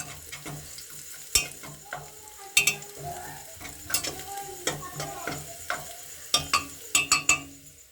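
Ghee sizzles in a pan for a mutton bone soup, a soft crackling fry broken by sharp clatters and scrapes of stirring at irregular intervals, close and moderately loud.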